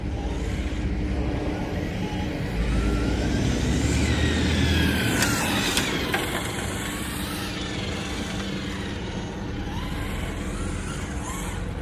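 A 1/5 scale RC Mercedes CLK GTR running on 6S power laps a parking lot, its motor a continuous loud whine with a pitch that sweeps up and down as it passes, over steady broadband noise.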